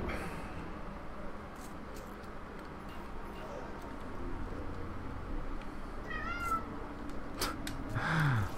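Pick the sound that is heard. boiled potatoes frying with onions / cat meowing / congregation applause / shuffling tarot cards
cat meowing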